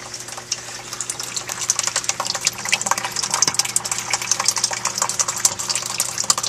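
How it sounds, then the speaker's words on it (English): Continuous rushing and gurgling of water flowing steadily through an irrigation pipe into garden Dutch buckets, with a faint low hum underneath. "Good flow of water."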